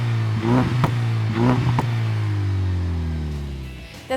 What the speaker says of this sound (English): This catback gives the EcoBoost a deep sound